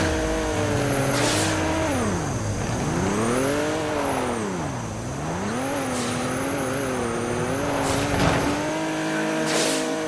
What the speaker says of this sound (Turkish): Ne ki bu araba?